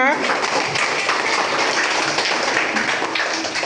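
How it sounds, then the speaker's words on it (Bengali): A third-grade classroom of children clapping their hands together, a steady, dense patter of applause that carries on without a break from start to finish. "হাততালি দাও একটা"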